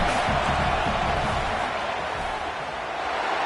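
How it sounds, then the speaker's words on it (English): Stadium crowd at a college football game against Ole Miss roars steadily during a field goal attempt from the 22, a dense, continuous wash of noise with no pauses and no clear break in intensity. "This crowd trying to do its part to get inside the kicker's head."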